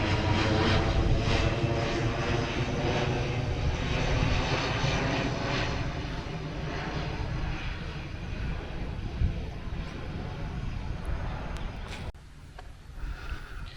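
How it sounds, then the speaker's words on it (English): A Caribbean Airlines passenger plane passes overhead while landing at Ogle, its engine roar loud and steady throughout before easing off near the end, with no talk over it. "Let's see one of the Caribbean Airlines flights up ahead"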